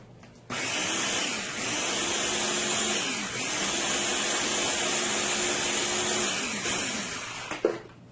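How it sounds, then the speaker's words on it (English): A blender runs steadily for several seconds, loud and close, pureeing an Escovitch fish marinade, with a whirring motor drone that shifts slightly in pitch before cutting off near the end. "let's go ahead and puree this now"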